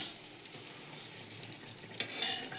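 Pithe, a Bengali rice cake, frying in a little oil in a pan, giving a soft steady sizzle with a few brief clinks and scrapes near the end.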